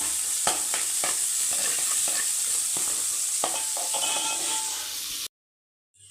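Onions fry in a pan, a continuous close sizzle with repeated scraping stirs, until it cuts off abruptly near the end.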